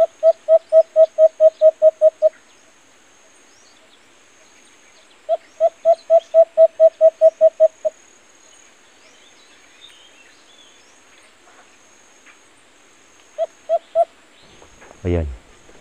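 An alimokon dove gives rapid series of repeated clear notes, about ten per burst, in two long bursts separated by quiet, then a short three-note phrase.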